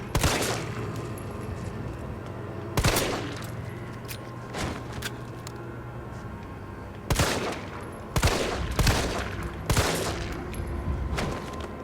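Rapid bursts of gunfire from the Resident Evil 3 Remake video game, loud sharp volleys and single shots recurring irregularly over a steady background, with no talking.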